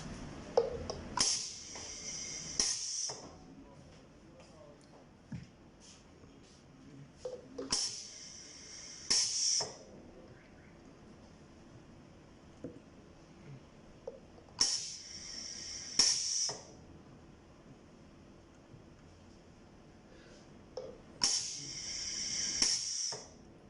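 A pneumatic semi-automatic filling machine for viscous liquids, fed by compressed air from a compressor, cycles four times with sharp bursts of air hiss and valve action, separated by quieter stretches of mechanical clatter.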